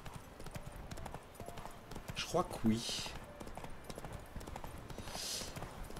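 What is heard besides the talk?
horse hooves trotting, video game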